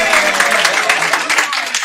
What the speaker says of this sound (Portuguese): palmas para os dois, né?